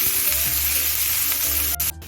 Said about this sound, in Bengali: আমি পাখি থেকে ছ মিনিট পেঁয়াজ রসুন কাঁচা লঙ্কাটা ভেজে নিচ্ছি